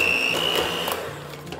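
An electric hand mixer beating butter in a bowl for Oreo cupcakes whirs steadily and fairly close, a continuous motor drone with a thin high whine, unbroken across the whole moment, with no voices over it.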